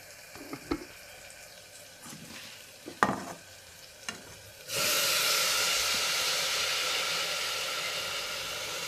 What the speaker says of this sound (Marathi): बघा छान फ्राय झाले, तेल पण सुटले बाजूने